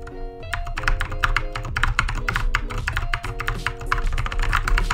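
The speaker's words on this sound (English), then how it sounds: "Keyboard ASMR" Rapid, continuous clacking of a mechanical keyboard during a Bedwars game, close and crisp, with keys struck in quick uneven bursts over a low background hum.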